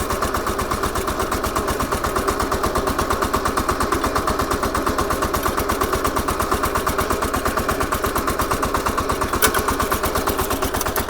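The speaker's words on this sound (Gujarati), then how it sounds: "આવી રીતના તમે છે ને ભાઈ ઇઝીલી તમે ટ્રેક્ટર ચલાવી શકો" VST Shakti 130DI tractor engine running steadily in second gear, a loud close diesel chug with a fast even firing pulse throughout, no voices.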